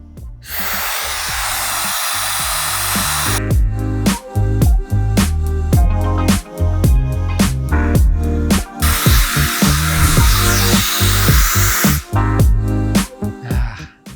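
A Laifen Mini high-speed hair dryer blowing on hair gives a steady, loud, airy whoosh in two long stretches, broken up by rhythmic background music that takes over between them.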